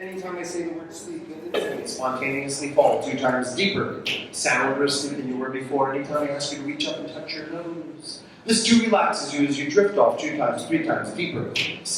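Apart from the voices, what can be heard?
No distinct noise like a dog, phone or traffic.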